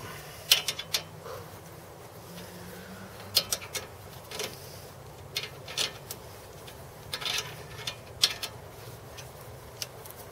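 A wrench working a 14 mm bolt on a car wheel bearing in a garage, a series of faint close clicks and sharp metallic ratcheting taps spaced irregularly over quiet background.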